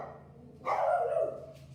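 One short dog bark sounds mid-clip, moderately loud against a quiet room.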